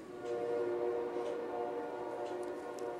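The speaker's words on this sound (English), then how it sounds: "Yes, that's a train." A passing train rumbles with steady tonal hum and a faint horn-like ring, moderately close and continuous, with no talking over it.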